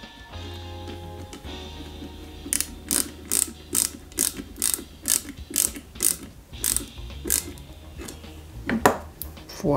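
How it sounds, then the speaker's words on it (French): A small DS02 screw is driven into the door of a 1/8-scale Bugatti Veyron 16.4 Super Sport model, heard as a series of crisp, evenly spaced ratcheting clicks from a screwdriver, close up and alone after a brief low hum. "Tout simplement, on y met une petite vis dedans."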